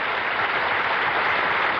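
Applause from a studio audience at a televised bowling match: steady, dense clapping that stays loud and even from start to finish, with no voices above it.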